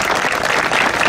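A warm round of applause for a school's honorary director at a foundation-stone ceremony for new buildings at Atheneum Campus Louis Zimmer, a dense, steady burst of many hands clapping close by.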